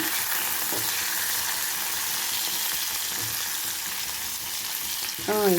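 Eggplant slices and curry leaves frying in oil in a pan, a steady close sizzle throughout with a few scraping stirs, one louder clatter near the end.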